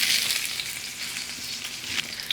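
Two big white onions, sliced about a quarter inch thick, sizzle steadily in hot oil in a skillet, a close, even frying hiss with small crackles and no voices.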